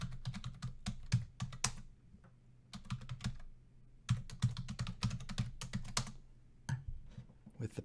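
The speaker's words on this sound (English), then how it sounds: "I type in my username and I'll connect again." Keystrokes on a computer keyboard as a username is entered to connect to a shell server, a close series of crisp clicks in irregular bursts with short pauses, no voices.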